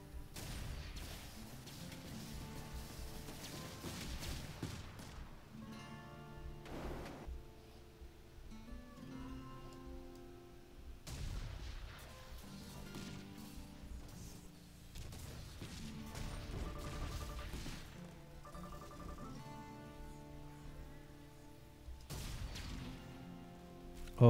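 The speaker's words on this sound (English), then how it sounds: "Oh, those missiles are awesome." Missiles launching and exploding in the TerraTech video game, faint repeated crashes and booms arriving in several spaced clusters over a quiet background of game music.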